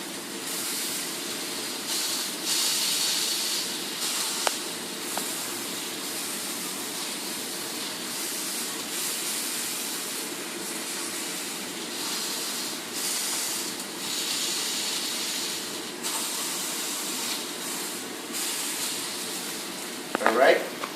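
Salmon frying skin-side down in a hot pan, a steady loud sizzling hiss that swells and eases in waves throughout, ending with a brief clatter.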